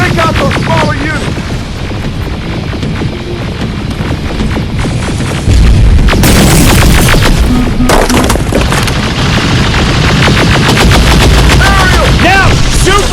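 Heavy gunfire and explosive booms from a video game battle against a large robot, with rapid bursts, machine-gun rattles and thumping blasts throughout, louder from the middle on, while voices call out over the combat.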